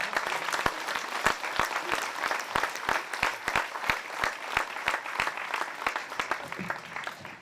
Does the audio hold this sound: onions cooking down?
no